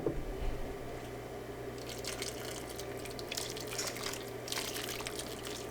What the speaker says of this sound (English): I'm going to take the pot out and pour it all over the chicken wings.